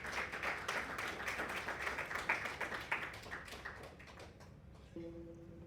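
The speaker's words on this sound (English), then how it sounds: "Can we give a round of applause for Mr. Frank?" A small crowd at an anniversary celebration in Qatar claps for a few seconds, dense patter of hands that thins out and fades, followed by a brief tone.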